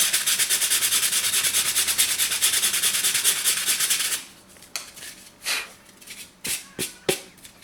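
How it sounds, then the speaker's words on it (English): Steady back-and-forth rasping of fine sandpaper on wood, fast and close, then slowing into a few separate, slower strokes before stopping. "going to my medium sandpaper, and then lastly down to my fine sandpaper."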